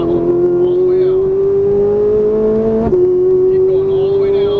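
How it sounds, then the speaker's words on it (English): A Ferrari 458 Italia accelerating on a race track: loud, close engine note climbing steadily in pitch, a brief shift blip near the end before the rising howl resumes. "Squeeze the throttle all the way out."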